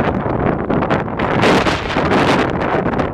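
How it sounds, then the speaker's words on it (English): Strong Halloween wind blasts across an outdoor street, buffeting the microphone with loud, continuous roaring gusts that swell and rush throughout, with no voices. "the wind is like blowing"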